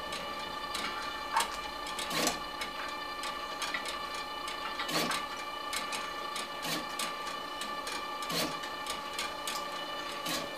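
A LAB500 label dispensing machine runs while labeling cardboard and paper tags, giving a steady mechanical hum with a repeating cycle of sharp ticks and clacks at regular intervals, close and alone.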